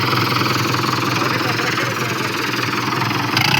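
A Sonalika DI 60 tractor engine runs steadily and loudly close by, a continuous drone with no clear change in pace, while voices can be heard faintly in the background.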